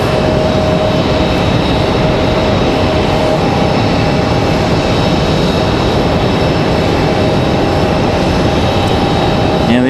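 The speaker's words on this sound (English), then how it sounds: "Here goes our Delta CRJ. Leaving the alleyway." Delta CRJ regional jet taxiing out at Raleigh-Durham airport, a loud, steady roar of jet engines with a constant whine, continuous and close for the full stretch.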